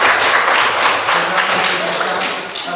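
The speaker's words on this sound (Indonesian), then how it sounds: "kita tepuk tangan untuk" A classroom group applauds together, brisk hand clapping from many people that fills the room, steady and fairly loud, then tapering slightly at the end.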